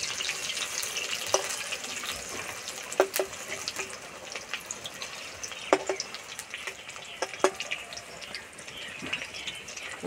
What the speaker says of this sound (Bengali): উল্টে পাল্টে একটু টাইম ধরে ভেজে নিতে হবে